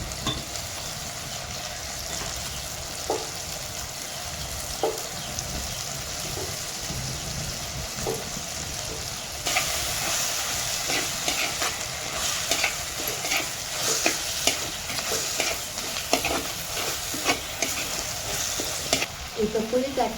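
Curry leaves and green chillies fry in hot oil for a Tamil-style fish curry, a steady close sizzle with frequent stirring scrapes that grow louder and busier partway through.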